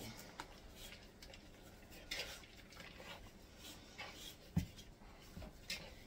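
A spoon stirs cheese into Amish golden stew in a pot, giving soft scraping and a few light clinks against the sides, close and quiet, with no talking.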